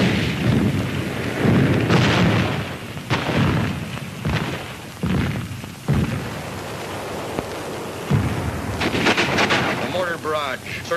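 A mortar barrage pounds Iwo Jima in repeated deep, thunderous booms that roll and overlap at uneven intervals, loud and rumbling throughout, with lighter crackling bursts toward the end.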